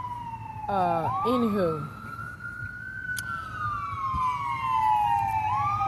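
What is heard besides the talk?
emergency vehicle siren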